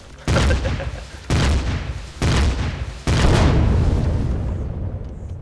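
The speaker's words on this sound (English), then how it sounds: "the rocket launcher obviously does a pretty good job of deforming the terrain or deforming your base" Four loud, booming rocket-launcher explosions from Empyrion Galactic Survival land about a second apart, each a sharp blast trailing into rumbling debris, the last one longest before fading out.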